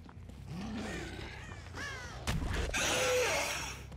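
Crows cawing in the video game Dead by Daylight, several harsh caws ringing out one after another against a low ambient backdrop, fairly close and distinct.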